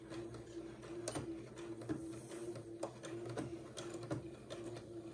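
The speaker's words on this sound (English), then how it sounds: "So I'm going to go backward and forward just a little bit up here at the end." A sewing machine runs steadily while stitching backward and forward at the end of a fabric casing meant for 1/4-inch elastic, giving a close mechanical whir broken by short clicks and bumps. No one speaks.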